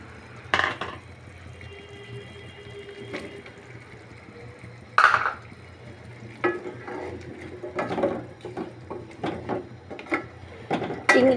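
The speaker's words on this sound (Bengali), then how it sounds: "এখন আমি আলু এবং মাছ সঙ্গে করে দিয়ে দিচ্ছি।" Potatoes and prawns tumble into a cooking pan, producing scattered knocks, clatters and wet splashes spread irregularly over a low simmering background, with no talking.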